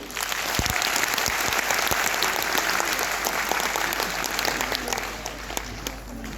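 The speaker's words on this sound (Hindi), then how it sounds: "जोरदार ताली बजाओ तो" A large crowd in a railway auditorium applauds loudly and continuously during a speech, dense clapping filling the whole stretch with little talk.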